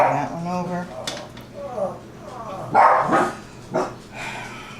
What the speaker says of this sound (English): The dogs are having a fit because we're having a thunderstorm